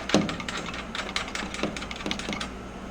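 A hand ratchet clicks in quick, irregular bursts while tightening engine mount bolts on a Zenith 750 Cruzer light aircraft, its close, crisp pawl ticks sounding alone at fairly low volume.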